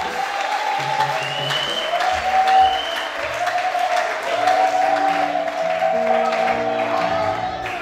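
A church congregation at a worship service applauds together in a steady wash of clapping that swells at moments, heard from within the crowd while faint voices and sustained musical tones carry on beneath.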